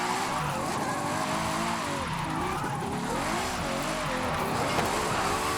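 Tires on a Ferrari J50 squeal continuously while drifting in Forza Horizon 5, a wavering, loud skid over a steady engine drone, with no talking.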